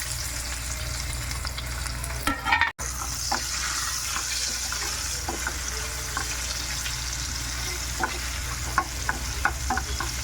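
Paneer with turmeric fries in oil with a constant loud sizzle, broken by a brief sharp cut and scattered clicks of a spoon stirring through the pan.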